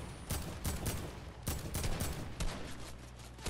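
Rapid bursts of video game gunfire in a duos battle match, several quick volleys of shots in a row, loud and close, with a short pause before a final burst and no talking over it.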